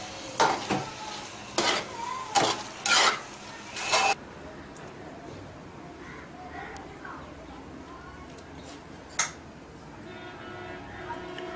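Grated carrots roasting in ghee in a pan for carrot halwa: several sharp spoon scrapes and clatters come in bursts at first, then a soft, steady frying hiss continues with one lone clink.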